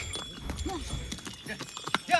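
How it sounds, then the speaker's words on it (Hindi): Horses and mules waiting at a stony mountain trail parking area on a temple pilgrimage route, with faint hoof clip-clop and animal stirrings blended into a busy outdoor background while people talk nearby. "यहाँ आपको घोड़े खच्चर भी मिल जाएंगे।"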